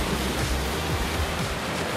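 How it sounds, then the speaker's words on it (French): Ocean surf off Hawaii where surf students practise water entries as the waves build, heard as a steady, close, broadband wash with a low rumbling undertone and no voices. "Les vagues commencent à augmenter un peu."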